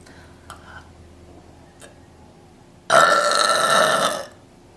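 A single long, loud, raspy burp from a woman, close to the mic and lasting over a second, after a few quiet clicks.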